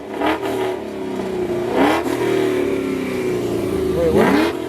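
A car's exhaust revs repeatedly at an underground car meet in Michigan, loud and close, with the engine note rising in several bursts over a steady rumble while people talk nearby.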